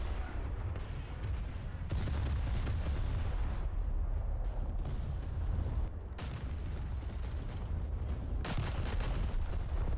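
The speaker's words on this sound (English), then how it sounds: "If you can fire a full broadside, it's much more helpful than firing guns individually" Naval video game battle with HMS Colossus firing broadside guns: repeated heavy booming blasts and rumbling gunfire in bursts, loud and dense, with brief quieter gaps between volleys.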